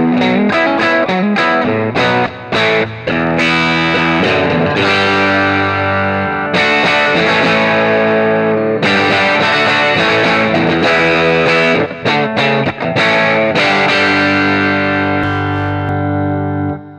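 Electric guitar through a Shift Line Twin MkIIIS tube preamp with the gain cranked, loud overdriven chords and riffs with short breaks, ringing on at the end.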